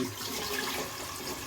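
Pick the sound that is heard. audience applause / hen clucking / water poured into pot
water poured into pot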